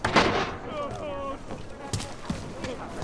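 Sharp gunshots crack amid a noisy Deus Ex: Mankind Divided game scene, with a shouting voice in the middle and several more muffled shots after.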